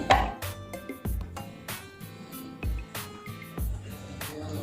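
Knife cutting a square shape into a slice of bread in a home kitchen: a string of crisp taps and scrapes of the blade against a board, in an uneven rhythm, with no talking.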